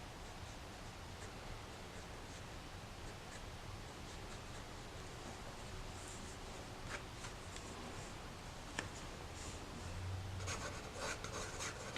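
A pencil drawing a portrait on paper in a Faber Castell sketchbook makes a soft, faint scratching that is steady and close, with a few slightly louder strokes and rustles toward the end.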